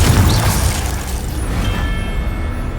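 A Confringo spell explosion in Hogwarts Legacy: one loud, close, booming blast that starts at full force and rumbles away with a long, fading roar.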